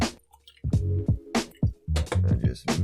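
Creatine powder being mixed into a container of water: a close series of wet, squishy sloshing pulses in an uneven rhythm, with no talking.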